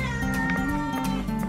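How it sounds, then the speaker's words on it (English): Domestic cat meowing at home, a close, loud cry with tonal harmonics repeating in short pulses across the whole moment, no talk over it. "He meows when he's hungry."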